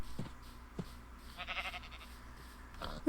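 Sheep bleating in the Minecraft video game, a few short bleats spaced apart, one longer bleat in the middle, fairly close over a quiet low ambient drone.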